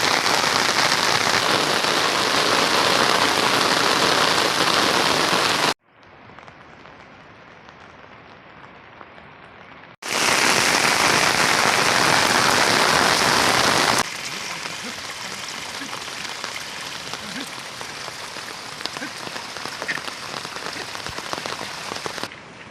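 Heavy monsoon rain pours in Kokan, a loud, dense hiss of downpour that drops away abruptly in one stretch, then returns at full strength before easing to a steadier, softer fall.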